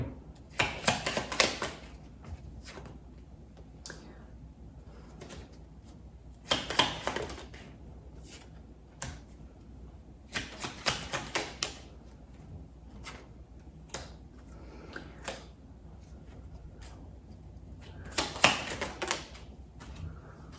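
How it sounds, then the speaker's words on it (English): Crisp cardboard and card flicks from a brand-new deck being opened and shuffled, in bursts of rapid riffling and snapping separated by quieter handling, close and fairly soft, with no voice. "I'm going to open a new deck of cards"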